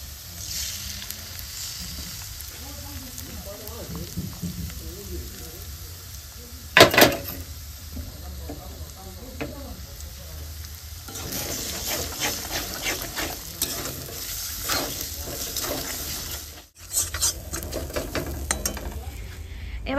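Potato, onion, tomato and chilli frying in a pan before an egg goes in: continuous close sizzling with scraping stirs, a sharp clatter near the middle and busier crackling later.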